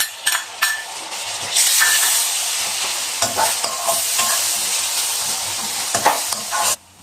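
Garlic-ginger paste sizzles hard in hot oil with lightly browned onions for a dhaba-style mixed vegetable sabzi. A loud, steady frying hiss runs throughout, broken by repeated stirring scrapes and knocks, close and without talk.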